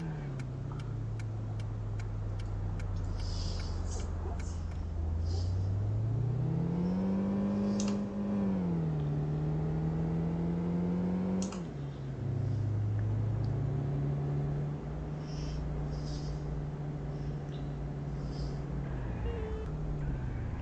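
Engine of a 4x4 pickup truck in a driving game, carrying cargo along village roads, droning steadily with pitch rising and falling as it revs and shifts, a faint ticking at the start.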